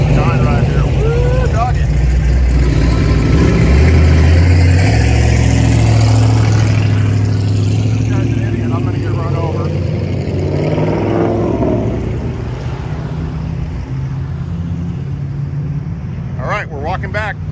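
Ford Mustang muscle cars, including a 1969 fastback, rumble out of a car cruise gathering, with deep idling engines and occasional revs close by, while voices talk over the steady engine noise.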